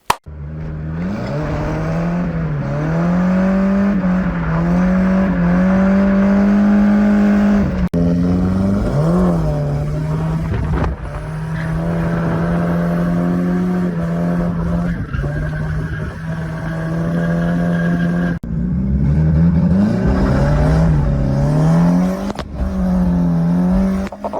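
Turbocharged car with an M43B18 engine sliding sideways in a drift, its engine droning loud and close with rising and falling revs throughout, briefly dipping at a few points, with possible tire scrub beneath.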